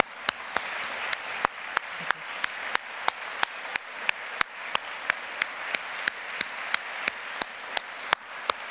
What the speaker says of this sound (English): So can I ask you to give a round of applause